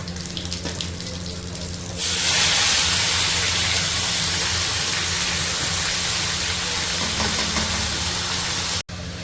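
Onions dropped into hot oil with a cinnamon piece, cumin seeds and a bay leaf, erupting into a loud, steady hiss and sizzle after a quieter start, with a brief break near the end.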